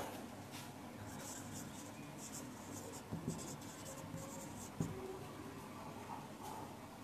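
Chalk or marker writing on a board in a chemistry lecture room, soft scratchy strokes coming in short bursts over a constant room hum, fairly quiet and close.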